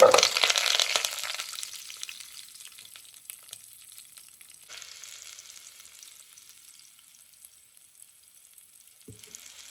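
Cumin, curry leaves, onion and garlic hit hot sesame oil for a sardine curry with a sharp, loud sizzle that quickly fades to a faint, low crackle, with one soft knock near the end.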